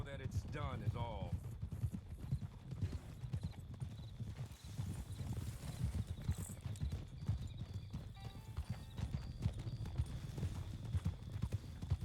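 Horse hooves clip-clop in a steady galloping rhythm in the video game Red Dead Online, with a whinny near the start, faint distant gunfire, and a voice talking over the hoofbeats throughout.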